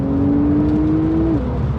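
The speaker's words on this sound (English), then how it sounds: "Oh, the tone from that engine, that flat 6, is glorious." A Porsche 911 992 Carrera 4S with its flat-six engine, heard close as a steady held drone that drops slightly in pitch near the end, loud and alone without talk.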